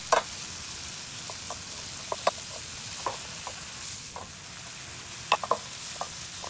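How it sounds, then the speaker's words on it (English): Canned corn kernels cook over medium heat in melted butter, giving a faint, steady sizzle with scattered light spoon scrapes and taps from stirring. "Stir well until the corn is cooked."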